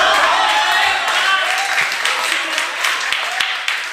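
An audience at a poetry open mic claps in a dense, sustained burst, steady and fairly loud, thinning slightly toward the end.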